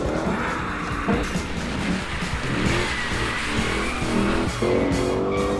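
A Lexus LC500 V8 engine roars continuously while tires squeal and skid through a drift, loud and close, with the motor revving throughout.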